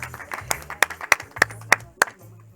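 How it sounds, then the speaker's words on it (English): An audience claps in applause for the Minister of Tourism, Patricia de Lille, at a live South African Tourism brand campaign launch, with sharp distinct claps standing out over a low murmur. "Please give her a round of applause."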